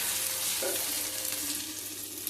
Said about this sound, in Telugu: ఇప్పుడు ఇవి వేసేసుకోవాలండి ఇంట్లో దుంపలు వేసేసుకోవాలి దుంపలు అలా వేసుకున్నాం